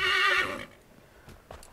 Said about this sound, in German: natürlich auch der Soundeinlagen des Pferdes